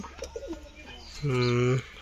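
A pigeon gives a single close, loud coo lasting about half a second late in the short stretch, after quieter bird chirps and rustling.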